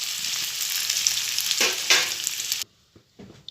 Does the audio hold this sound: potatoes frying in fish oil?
yes